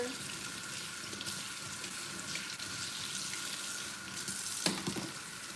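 Cold tap water runs steadily while hair is rinsed before dyeing, a continuous close hiss with a brief splashy burst near the end.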